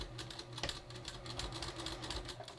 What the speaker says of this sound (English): I'm going to start stitching, and I'm going to back tack.